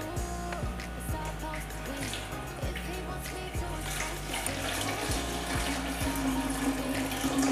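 Homemade horchata, a rice and cinnamon drink, poured through a strainer into another pitcher, giving a steady, continuous trickle and splash of liquid that grows slightly fuller toward the end.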